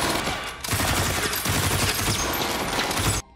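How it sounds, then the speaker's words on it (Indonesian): Dense gunfire from a film shootout: rapid, overlapping bursts of loud shots crackle without pause for about three seconds, then cut off abruptly. "Tak lama kemudian, baku tembak pun terjadi."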